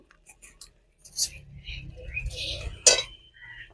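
Metal spoon clinks and scrapes against a pan while chhana curry with cashew and poppy-seed paste is stirred, giving irregular close clatters over soft low rumble with a sharp knock near the end.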